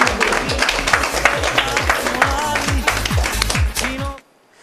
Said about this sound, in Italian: fatevi un applauso perché siete davvero molto molto bravi